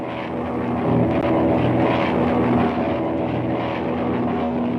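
Propeller airplane in flight from a 1937 Dick Tracy serial, a loud, steady droning engine and airscrew roar that swells slightly midway, heard alone without speech.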